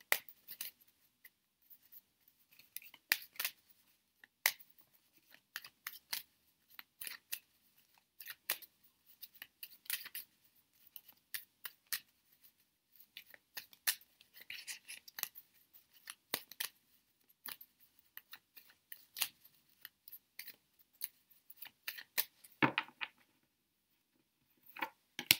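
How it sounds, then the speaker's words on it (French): Tarot de Marseille cards, the 22 major arcana, are shuffled by hand, giving quiet, quick papery snaps and flicks in irregular bursts throughout, close and soft with no talking. "vous mélangez les cartes"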